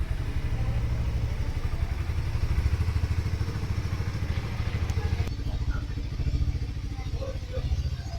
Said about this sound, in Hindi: इसके अंदर में जो एग्जॉस्ट साउंड है वो काफ़ी ज़्यादा बेसी है